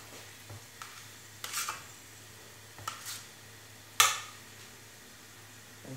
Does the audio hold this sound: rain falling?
no